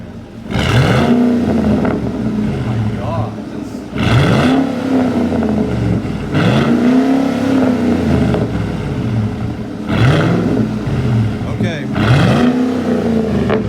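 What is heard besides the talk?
Ford Raptor V8 exhaust revving after startup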